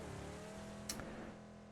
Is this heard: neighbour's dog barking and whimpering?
no